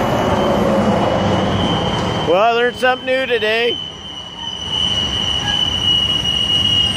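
A BNSF freight train rolls past with a continuous high wheel squeal ringing throughout, while a person speaks briefly partway through.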